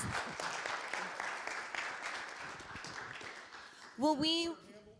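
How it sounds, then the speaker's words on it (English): A conference audience claps through the stretch in steady, dense applause while a voice talks over it, ending with a brief louder burst of cheering or whooping near the close. "Give them a round of applause."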